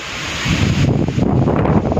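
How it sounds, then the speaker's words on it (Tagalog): Strong wind roars steadily into the microphone at night in Taiwan, a loud continuous rushing with gusty surges and no voices. "kung inyo po naririnig ang ugong, ganyan po kalakas ang hangin sa Taiwan"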